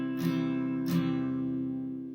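A guitar chord fretted with a finger on C and the fifth string rings out, strummed twice in quick succession, its sustained tones lingering and slowly decaying, with no voices.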